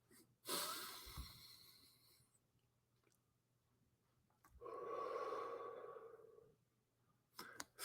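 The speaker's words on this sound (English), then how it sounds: "everyone take a deep breath" A deep, close breath is drawn in slowly and then released in a long, audible exhale in a quiet room during a gratitude prayer, with a faint sniff at the end.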